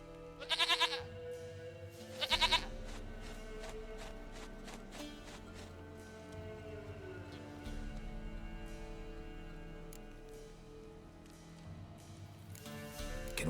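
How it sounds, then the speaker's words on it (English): A goat bleats in The Witcher 3 video game, two sharp nasal bleats near the start followed by another at the end, over a low sustained game music bed. "Goat of mine, dearest,"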